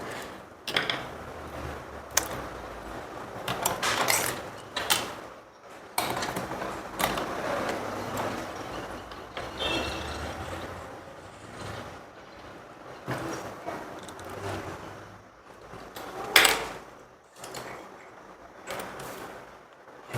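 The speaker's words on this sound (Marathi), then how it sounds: "आता आपल्याला कडेने एक एक शिलाई मारून घ्यायची आहे." A sewing machine runs stitch by stitch along the edge of a potli design on a round neckline, in short, fairly quiet bursts separated by brief pauses.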